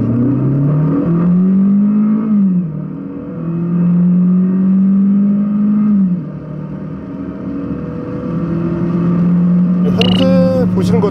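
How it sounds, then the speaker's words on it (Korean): A Kia K5 2.0 CVVL engine drones loudly from inside the car during a hard launch from a standstill, its pitch climbing in smooth steps through the gears while a voice speaks over it. "이번에는 발진 가속 성능을 알아볼까요?"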